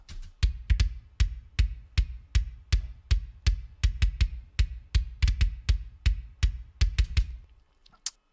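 Metal drum kick hits run through reverb pulse in a regular chain of about twenty strikes, each trailing a short wash, ending in a brief fading tail with no voices.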